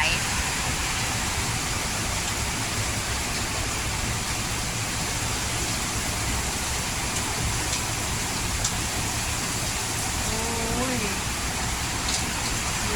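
Heavy rain with wind in Bangkok, a steady dense roaring wash of downpour that holds constant throughout, with a faint brief tonal sound near the end.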